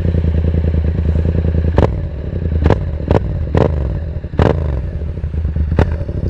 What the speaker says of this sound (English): The new Two Bros exhaust. Sound any different?